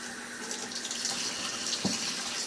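Cold water runs steadily from a tap, a continuous close splashing hiss with no talking.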